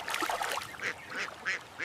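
Ducks at a waterside family picnic quack as they are fed bread, giving a series of short, nasal calls in quick succession, fairly close and clear, with no talking.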